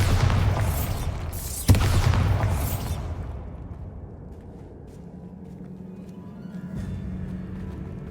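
A deep booming blast from the Bombarda spell inside a tomb in Hogwarts Legacy, with a sharp crack in the middle of a rumbling burst that fades into a low echoing hum.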